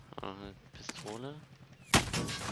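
A single sharp pistol shot in Call of Duty Warzone, loud and close, following a stretch of voiced game chatter.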